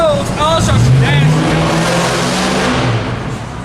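Loud cars with no mufflers roar and rev nearby, engine noise rising and sustained, with voices talking over it.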